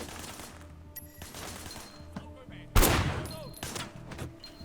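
A shooter fires from a car's passenger window in the game Sleeping Dogs, with scattered muffled shots giving way to one loud, sharp report and a trailing echo, over faint background noise.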